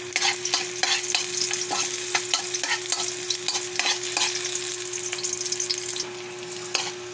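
Ginger and garlic fry in hot oil with a steady, crackling sizzle, broken by repeated sharp taps and scrapes of stirring, close and continuous with no talk.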